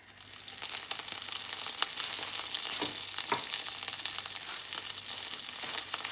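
Curry leaves sizzling in hot oil in a pan, a steady close crackling fry with a few sharper pops, no talking over it.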